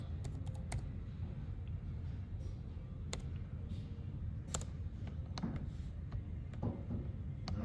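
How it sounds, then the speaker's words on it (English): Irregular keystrokes tapped on a computer keyboard while a name is entered into PLC and HMI software, sharp clicks coming in short bursts against a steady low hum, close and fairly quiet. "I can just now start typing a name for my output"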